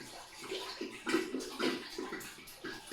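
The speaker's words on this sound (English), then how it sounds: "I will put my 2 liters of water" Two liters of water pour into a cooking pot, a loud, continuous splashing gush with swelling surges, close by and alone.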